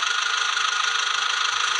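Tractor engine running in the Indian Tractors mobile game, a steady continuous engine drone with a faint low knocking pulse, even and loud throughout with no talk.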